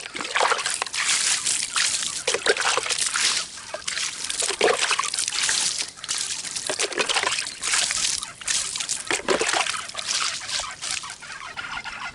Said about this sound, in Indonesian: nanti selanjutnya kita siram supaya tidak ada yang lengket di daun